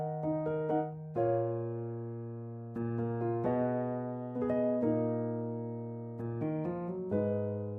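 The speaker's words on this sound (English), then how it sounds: "noir felt piano." Soft, muted felt piano from a Kontakt sample library plays a slow chord progression, each sustained chord ringing warmly before the next, alone with no voices.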